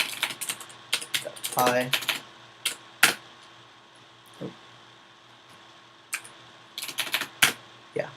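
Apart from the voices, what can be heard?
typing on a computer keyboard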